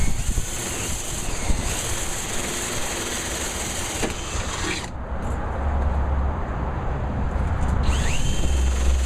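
A power drill whines steadily and loudly, its pitch shifting partway through as it bites into the metal of a 1973-91 Chevy C-10 door, with no talking.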